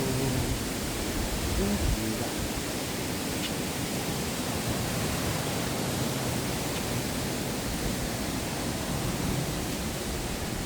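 A waterfall at the Central Cascade gives off a steady, dense roar of rushing water that fills the whole clip without pause, loud and even, with no voices.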